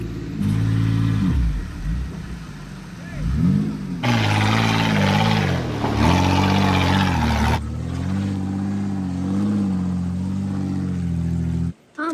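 A Can-Am off-road vehicle stuck on a rough trail revs its engine loudly and steadily, the pitch rising in a harder surge midway before settling back to a sustained drone.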